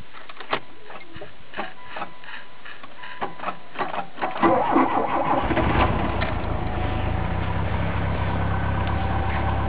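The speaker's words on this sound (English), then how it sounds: "The clicking you just heard is the relay not closing" A 1986 Dodge Daytona Turbo Z sits with a fault in its remote fender-mounted starter relay, which gives a series of sharp, irregular clicks before the engine cranks over and settles into a steady running rumble.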